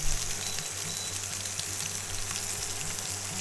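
Chicken sears in hot coconut oil in a pan, giving a steady, close crackling sizzle with fine popping over a low background hum and no talking.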